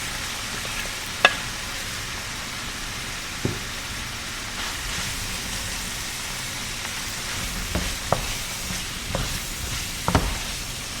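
Vegetables hit a hot pan of saucy taco beef and sizzle steadily while being stirred, with a continuous frying hiss broken by a few sharp scrapes and taps of the utensil against the pan.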